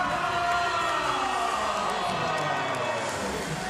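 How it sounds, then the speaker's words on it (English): An arena crowd at a wrestling European Championship rises to its feet, a dense, steady roar of cheering and voices sustained throughout at close, loud level for Rıza Kayaalp's eleventh title. "this crowd comes to their feet in appreciation for the greatness that this guy has brought to this sport"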